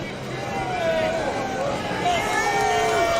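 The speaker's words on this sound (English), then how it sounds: "Listen to the crowd." Crowd cheering at the finish of a NASCAR race, a dense loud roar of voices with whistles and shouts building and holding steady throughout.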